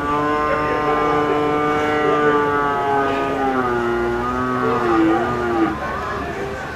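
Cattle awaiting slaughter at a city abattoir in Uganda give a long, loud, drawn-out moo near at hand, its pitch wavering and sliding over several seconds above steady background noise.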